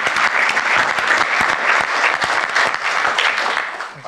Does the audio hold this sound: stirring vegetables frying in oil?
no